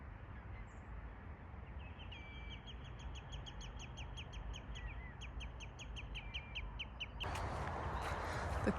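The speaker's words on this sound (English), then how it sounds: "I was greeted by the sound of lapwings" Lapwings call repeatedly at the Hayle Estuary in autumn, a series of thin, quick cries rising over a constant wash of distant traffic noise, with a louder burst of noise near the end.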